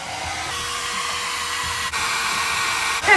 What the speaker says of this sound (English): if you take a hairdryer and blow on it, it'll give you more cream